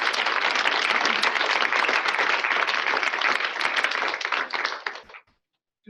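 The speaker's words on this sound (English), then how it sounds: "We'll just give another round of applause." A lecture audience applauds after a talk on unconscious bias, with thick, sustained clapping at full strength that tapers off and stops abruptly near the end.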